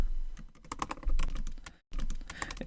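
Rapid typing on a computer keyboard, close and crisp, with fast irregular key clicks, a brief pause, then more typing.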